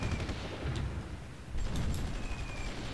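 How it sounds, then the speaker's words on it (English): Distant artillery barrages rumble in the strategy game Supreme Ruler Ultimate, a steady low booming roll with a few sharper cracks near the middle, continuous through the three seconds with no talk. "Yeah, this is a lot of artillery"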